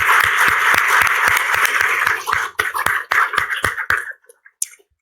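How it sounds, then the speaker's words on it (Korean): A church congregation claps in a sustained burst of applause that thins into scattered claps and fades out, with no talking over it. "I want to give him a round of applause."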